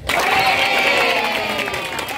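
Scout troop crowd clapping and cheering at a scouting gathering, a loud dense burst of rhythmic clapping and shouts that holds steady for about two seconds.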